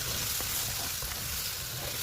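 Tomato tossed into hot spiced oil in a pan sets off a loud, steady sizzle with a few stirring scrapes and taps, alone without speech.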